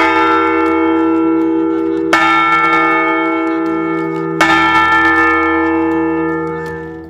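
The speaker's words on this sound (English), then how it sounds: "a bell ringing ceremony at the State Capitol Complex in Charleston" A large bell at a state capitol ringing ceremony rings with long, resonant tolls, struck twice more at spaced intervals while the deep hum lingers and slowly fades.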